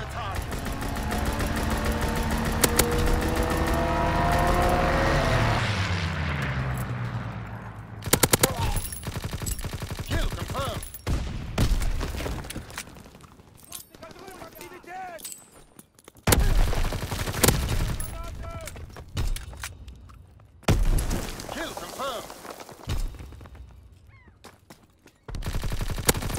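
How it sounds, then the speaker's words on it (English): A fighter plane flies a strafing run in a video game: a droning engine with falling pitch gives way to loud, repeated bursts of rapid machine-gun fire with short gaps between them. "Fighter pilot ready for strafing run."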